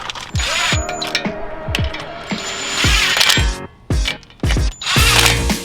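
A ratchet works small wheel spacer nuts onto factory lugs of a Honda Civic Type R, giving bursts of rapid metallic clicking with short pauses and clinks between, close and loud.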